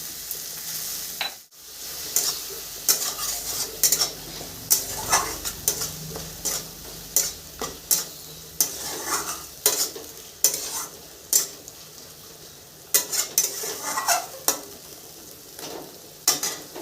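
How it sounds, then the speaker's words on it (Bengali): Fish curry in oil spices sizzling in a frying pan as water goes in, with a burst of hiss followed by repeated scraping stirs and utensil taps, quiet and close. "অল্প একটু জল দিব।"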